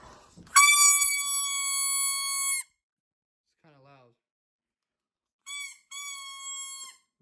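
A dollar-store toy plastic trumpet blares a long, steady buzzy tone, then after a short pause gives two shorter honks; a brief faint voice sounds in between.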